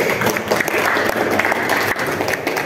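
A classroom group claps for a class presentation, a dense, close burst of applause that carries steadily throughout.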